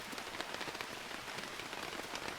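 Steady rain patters on surfaces at a mountain campsite, a dense, even hiss of drops that continues without a break, close and moderately loud with no voices.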